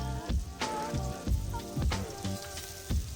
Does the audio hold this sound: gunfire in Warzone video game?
no